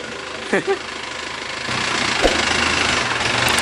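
A car engine starts and settles into a steady idle, with the rumble rising and holding after a couple of brief mechanical clunks at the start; people talk faintly around it.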